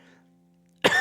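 A preacher gives a single short, sharp cough at close range right at the end, following a faint hum.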